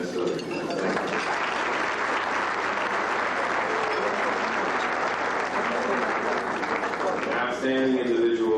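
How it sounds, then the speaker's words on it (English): Audience at an anniversary dinner applauding in a banquet hall, a sustained, even roar of many hands that fades near the end as a voice begins speaking. "a round of applause is necessary"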